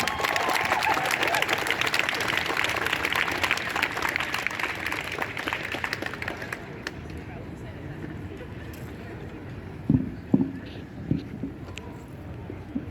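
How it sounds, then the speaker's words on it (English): Audience applause at a Nova Scotia rent control rally in November 2020, a dense steady clatter of clapping for the first several seconds that thins out, leaving a quieter outdoor crowd with a few scattered knocks and sounds. "Give him a big round of applause."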